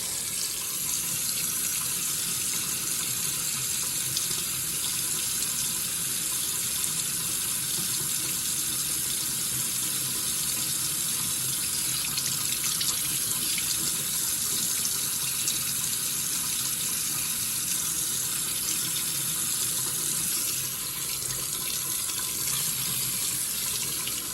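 Water runs steadily from a tap into a sink, a constant splashing rush that holds the same level throughout.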